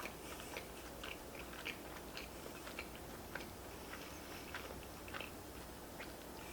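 Close, quiet biting and chewing of chicken pesto caprese pizza with juicy tomato, soft repeated crunches and wet mouth sounds at an even pace.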